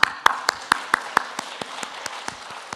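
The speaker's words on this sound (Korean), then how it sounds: "이야, 박수 한번." Church congregation clapping in a burst of sharp, evenly spaced claps that start strong and thin out over a few seconds in a reverberant sanctuary.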